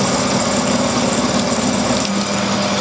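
Drill cutting into metal on a lathe, held in an ER40 collet chuck, a steady continuous machine whir with a constant tonal hum that drops slightly in level near the end, close and loud with no talking.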